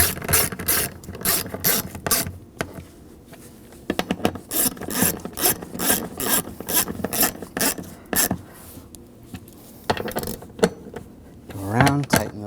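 A hand ratchet tightens the bolts on the fuel pump module of a 2007-2013 BMW 328i with the 3.0L inline-six, a close, loud stream of rapid clicking bursts in short runs with brief pauses, and some speech near the end.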